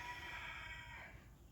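A pet rooster gives a single short, faint crow, heard at a distance in a quiet room and fading out after about a second.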